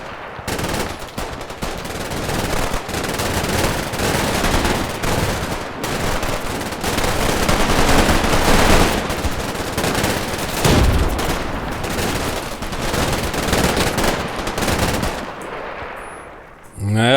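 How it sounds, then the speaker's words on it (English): Machine guns fire in the video game Combat Mission Red Thunder, in a Stalingrad battle. Loud, dense bursts of rapid gunfire overlap almost without a break, with scattered heavier reports, before tapering off at the end. "Shoot machine guns at that guy."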